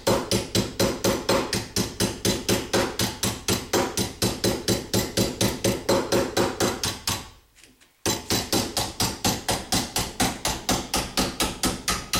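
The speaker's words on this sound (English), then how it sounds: "I'm actually letting the weight of the mallet kind of spring itself back down and do most of the work" A mallet strikes sheet metal while forming an aircraft rib, in a fast, steady rhythm of ringing clangs, with a brief pause midway before the hammering resumes.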